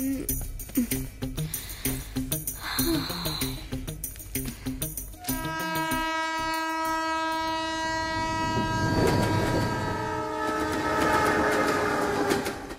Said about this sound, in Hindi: अरे वाह देखा, ट्रेन आ गई।